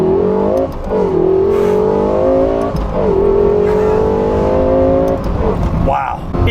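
Lexus LFA supercar accelerating hard from the cabin, a loud high engine wail climbing through two gear pulls with brief dips at the shifts, as a driver talks excitedly over it.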